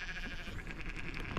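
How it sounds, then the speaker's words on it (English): A baby lamb bleats beside its mother at the roadside, a short, steady, fairly close bleating that fills the brief moment with no talk. "It's a little baby sheep."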